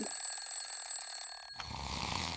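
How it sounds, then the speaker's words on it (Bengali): A phone alarm ringing with a steady electronic tone for about a second and a half, then it stops and soft room noise follows. "ফোন টিপে অ্যালার্ম বন্ধ করা শিখছিস?"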